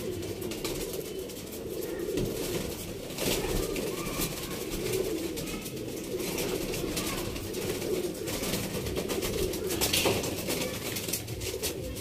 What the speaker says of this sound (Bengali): আরেকটা নর পায়রা দেখাচ্ছি